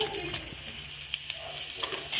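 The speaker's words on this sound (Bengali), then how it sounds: "তেলটা গরম হয়ে গেছে এবার ফোড়নে দিয়ে দিচ্ছি জিরে আর শুকনো লঙ্কা" Cumin seeds and dried red chillies sizzle in hot oil in a kadai for a dal, a soft, steady crackle with light pops and faint stirring throughout.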